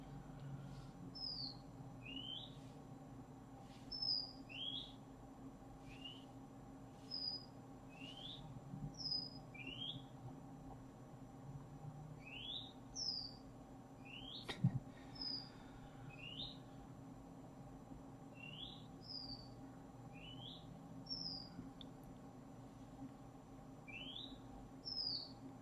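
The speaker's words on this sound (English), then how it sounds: "There's a very cheeky sounding bird outside in my garden." A small songbird whistles outside in a garden, repeating short rising notes every second or two, faint and distant over a steady low background hum, with one sharp knock partway through.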